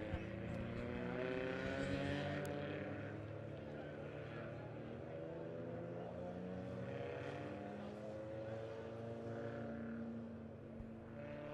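Hornet class race cars roll onto the track at Monett Motor Speedway, their engines forming a steady, moderately distant droning rumble that holds throughout.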